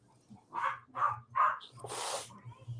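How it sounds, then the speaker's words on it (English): Several dogs bark in a run of loud, evenly spaced woofs, followed by a harsher burst, over a low steady hum with faint background noise. "see what all these dogs are going off about"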